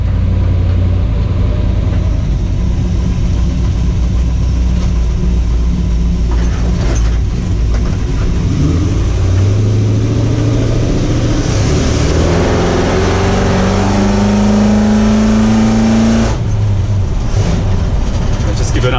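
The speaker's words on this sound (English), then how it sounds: "We'll just head out and just give it a little bit of gas, but it's pretty powerful if you want it to be" A 1959 Ford F100 pickup truck pulls away and accelerates. A low, rough engine rumble builds into a rising, strained tone, close to the listener, with voices heard over it at times.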